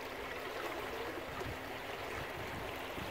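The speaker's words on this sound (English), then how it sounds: "It just sounds like a slowly trickling creek." Gentle, steady river water trickling and lapping past a river cruise ship, heard from a cabin's French balcony, like a slow creek, soft and continuous with a faint low engine hum beneath.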